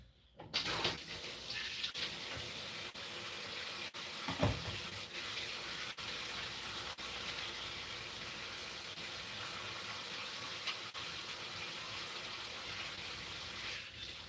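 Coconut oil sizzles in a frying pan with a steady, hissing, fairly faint crackle that continues evenly throughout, with a faint knock near the start.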